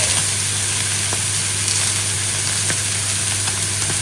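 A seasoned, oiled steak sears in a hot pan with a loud, continuous close-up sizzle and a few small pops, and no voices.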